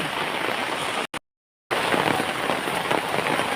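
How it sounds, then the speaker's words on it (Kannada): Steady rain pours down outdoors near a temple, a dense continuous hiss that briefly cuts out for about half a second before resuming at full strength, with no voices. "ಮಳೆ ಬಂತು"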